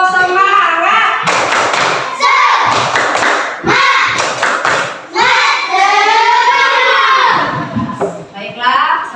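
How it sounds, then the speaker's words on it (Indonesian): A class of children claps and stamps a quick rhythmic spirit-clapping pattern, loud and close, with shouts and voices mixed between the beats. "Tepuk semangat."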